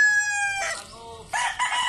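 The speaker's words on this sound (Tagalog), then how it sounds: "Ito yung mga manok." Chickens on a small farm, with a rooster crowing loudly in a long harmonic call, then hens clucking and squawking close by in a busy, noisy burst.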